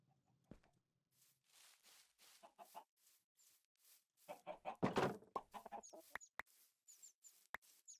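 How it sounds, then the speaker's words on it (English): Chickens clucking in the video game Minecraft, a run of short, repeated clucks and squawks at close range that grow louder and denser toward the middle, with no talking over them. "Look at all those chickens."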